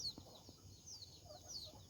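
Short clucks from chickens in the mountains, feeding on bananas, a few soft bursts over faint background noise with no talking.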